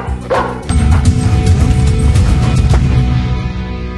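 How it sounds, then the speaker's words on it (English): Dogs bark loudly and repeatedly in a TV drama scene, with sharp close yips over a dense rumbling background that continues to the end. "Why are they barking at you?"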